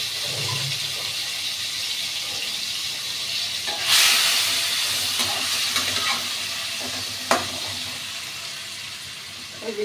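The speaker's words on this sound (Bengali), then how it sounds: "এই যে চিংড়ি মাছগুলো একটু ভেজে নিচ্ছি হালকা করে।" Prawns, salted and coated in turmeric, hiss and sizzle in a very hot pan, a steady broadband frying noise with a sharper burst near the middle and a few brief clinks. No one speaks.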